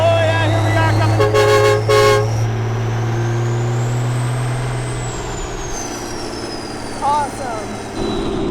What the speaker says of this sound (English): Give it a honk.